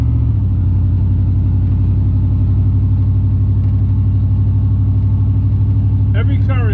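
A car engine in a driving video game rumbles steadily and loudly throughout, a constant low drone with no clear revving changes and a brief higher sound at the very end.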